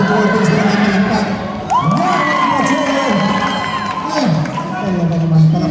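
Spectators cheer and shout loudly at a basketball game, with children's voices rising in bursts, and a commentator talks over the crowd throughout.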